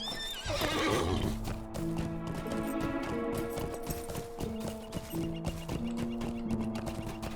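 A horse in Lord of the Rings Online whinnies loudly, then hooves clip-clop steadily under a soft musical background as it moves along.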